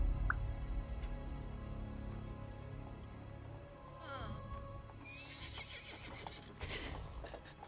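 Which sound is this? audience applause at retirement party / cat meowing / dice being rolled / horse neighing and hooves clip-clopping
horse neighing and hooves clip-clopping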